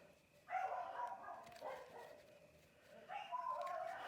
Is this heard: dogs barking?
yes